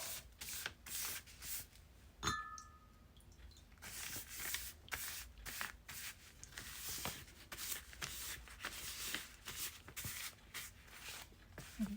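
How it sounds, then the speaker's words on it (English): A brush lays a coffee mixture onto paper in quick repeated strokes, giving soft, close swishing scrapes in an uneven rhythm with brief pauses between them. "and then I'm just going to brush it onto the paper."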